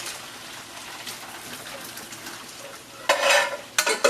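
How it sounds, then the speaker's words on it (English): Onions frying in hot oil, with a soft background sizzle broken by louder bursts of spattering and stirring near the end, close and intermittent, with no talk over it. "we're going to give them a quick fry in this oil with these onions"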